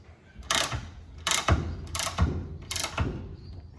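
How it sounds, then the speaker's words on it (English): Nutserts are set into tub rack clamps for a Nissan Navara, four sharp metallic crunching clicks spaced about a second apart, each followed by a short thud, close and fairly quiet. "Just got to put some nutserts into the clamps"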